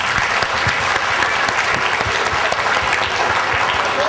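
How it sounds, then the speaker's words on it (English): A school-day audience at Chitrakoota School's Pratibhangan show breaks into a huge round of applause, dense continuous clapping from a large crowd, loud and sustained throughout. "Let's give them a huge round of applause"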